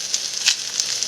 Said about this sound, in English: I'm going to add in red chili powder